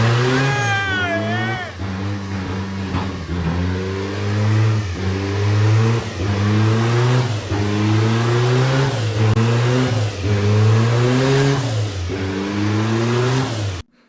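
A bodydropped Toyota minitruck with a turbocharged 22RE engine revs hard in repeated rising and falling surges during a burnout inside a shop, loud and close, with voices faintly underneath.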